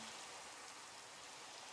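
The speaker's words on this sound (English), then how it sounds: "it is raining" Rain in the Minecraft video game, a constant dense hiss of falling drops that stays even and fairly soft throughout.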